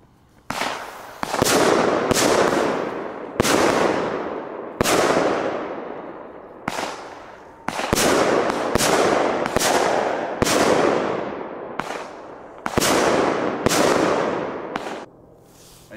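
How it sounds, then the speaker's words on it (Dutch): A rapid series of sharp firecracker bangs, about a dozen loud explosions spaced irregularly over several seconds, each with a short ringing tail outdoors, in Belgium. "Goeie knalkeks, man."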